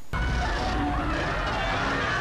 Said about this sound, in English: That's the sound of the rig falling apart.